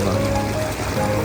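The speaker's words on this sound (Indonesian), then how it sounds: "deras sekali itu air" Torrential flood water rushes through the Kampung Bugis market in Gorontalo as a dense, continuous roar, close and loud, with a voice faintly audible beneath it.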